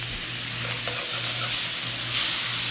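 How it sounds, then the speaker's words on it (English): Butter, garlic and mushrooms sizzle in a hot skillet with a steady, close, crackling hiss and light stirring scrapes throughout. "put in 3/4 of a stick of butter in your hot skillet"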